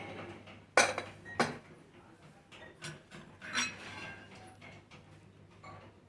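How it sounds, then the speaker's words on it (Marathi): A pressure cooker of mutton kheema is opened in a home kitchen, with a few sharp metallic clinks and clanks of lid and pots scattered over a quiet background hum, close by and without talk. "आणि आपण कुकर उघडून पाहूया."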